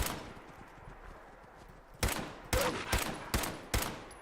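Turret gunfire in a survival video game: a quiet stretch, then five loud, evenly spaced heavy shots about half a second apart, each with a short echoing decay.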